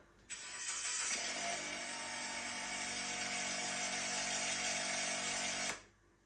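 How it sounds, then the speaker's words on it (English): A motor kicks in abruptly and drones loudly and steadily for about five seconds, a harsh buzzing engine roar that then cuts off. "I've got a recording of the car engine starting, which is right here, and I'm gonna play it"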